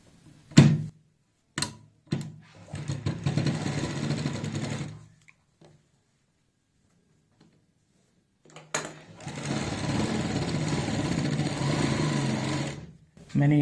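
A sewing machine stitches salwar fabric in two loud whirring bursts, a few seconds each, separated by a silent pause, with short mechanical clicks at the start.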